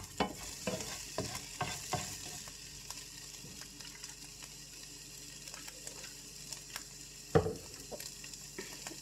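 Steaks cooking in a pan at home: a quiet, continuous sizzle with a hum underneath, broken by several sharp clicks and scraping taps of a utensil against the pan at irregular moments, nobody speaking.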